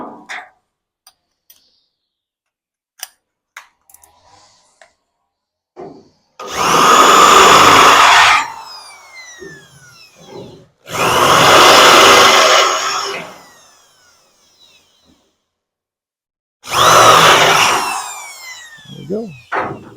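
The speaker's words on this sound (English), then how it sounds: "Now basically you just drill through the top layer" A power drill bores through the sheet-metal top layer of a 1968 Firebird tail panel during body restoration, in three loud whining bursts with quiet pauses between them.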